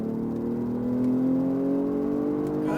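A BMW M240i accelerates on the Dubai Autodrome track, its engine note rising steadily in pitch heard from inside the car, loud and continuous over about three seconds.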